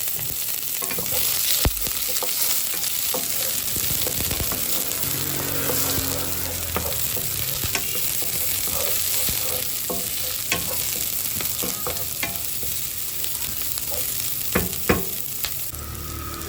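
Garlic and onion sautéing in a pan for menudo, with a steady sizzle and the scrape of stirring running throughout, close by, with a few sharper clinks and no talk.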